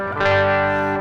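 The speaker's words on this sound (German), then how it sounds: "Original-Speaker-Simulation im Rockman klang so" Distorted electric guitar chord through the Nembrini Audio RockDude X1000 plugin's original Rockman speaker simulation, one short, loud sustained strum ringing with rich harmonics.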